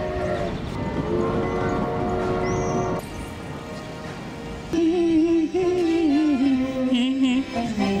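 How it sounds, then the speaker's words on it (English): A train rumbles past in Vilnius, Lithuania with a steady mechanical roar and tonal hum, the sound shifting partway through as a horn-like tone rises and wavers. "That's my train."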